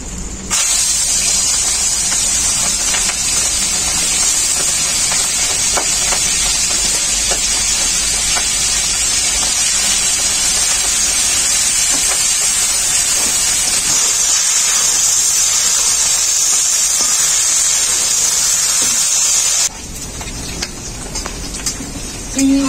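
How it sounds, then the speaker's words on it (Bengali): Prawns frying in hot mustard oil in a wok, a loud, continuous close sizzle and spitting hiss for about twenty seconds before it abruptly cuts to a quieter, thinner sound near the end; no talking. "মাছগুলো ভেজে নেব।"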